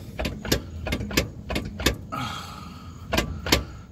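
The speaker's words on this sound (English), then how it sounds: "I don't know what that metal on metal noise was." A wheel on a 2018 Mustang GT makes a metal-on-metal noise: sharp clanking ticks repeat in a quick, fairly regular rhythm, close and distinct over a low background hum.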